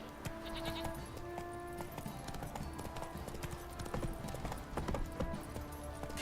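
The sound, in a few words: horse Roach's hooves galloping in video game The Witcher 3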